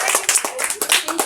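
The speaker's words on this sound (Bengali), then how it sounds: "তোমরা হাততালি দাও" A group of people at a village arm-wrestling contest clap their hands in quick, uneven bursts, close and lively, with voices mixed in among the claps.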